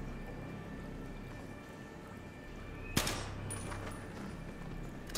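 Gunfire from the video game Battlefield 3: one sharp, loud shot cracks out over a steady hum of in-game ambience, with another burst starting right at the end.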